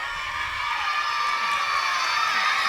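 Schoolchildren at a school day event in Yarehalli cheering, shouting and whistling, a continuous wash of crowd noise with shrill, high-pitched voices blended together at a steady level.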